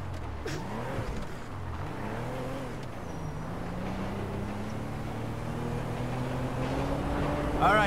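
A van driving in GTA V, its engine droning steadily with rising and falling revs as it accelerates, a continuous close motor rumble building slightly louder toward the end.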